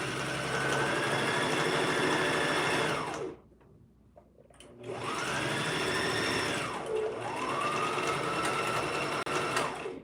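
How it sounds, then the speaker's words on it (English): A sewing machine back stitches a seam on an abaya, running loud and close in a steady whir, pausing briefly, then whirring again with a rising and falling pitch as the direction reverses. "Back stitch to lock the thread in place."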